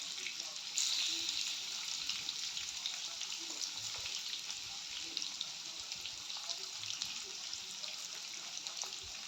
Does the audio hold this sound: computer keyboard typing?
no